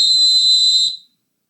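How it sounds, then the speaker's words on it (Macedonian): A single sustained shrill whistle of the kind blown at sports matches, steady and loud for about a second before cutting off. "тоа е звукот на свирчето"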